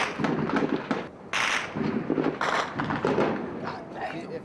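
Combat in Iraq with sharp bursts of gunfire cracking repeatedly at mid distance while someone talks over the shooting.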